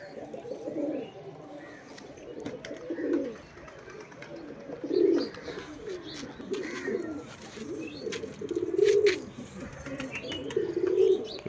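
Pigeons feeding give low, repeated coos that swell and fade in a steady pattern, close by, with faint chirps and a soft background hiss.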